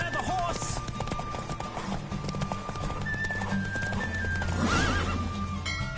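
Horse in a race in The Witcher 3: Wild Hunt: galloping hoofbeats run throughout, and a loud whinny rises near the end, all over game music and some speech.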